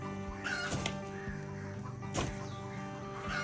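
Crows cawing around a coconut tree in a village setting, several harsh caws in loose succession at moderate distance over a steady background hum.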